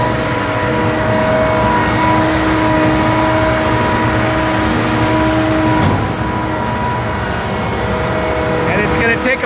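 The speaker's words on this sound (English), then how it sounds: "So we've got about 22 trucks, cement trucks, coming to fill this up." Heavy cement trucks idle and rumble at a building site where a raised concrete slab about 9-10 feet off the ground is being poured, a loud continuous engine drone with steady tonal hum throughout.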